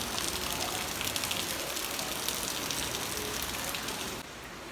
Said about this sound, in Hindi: तो काफ़ी तेज़ से बारिश हो रही है।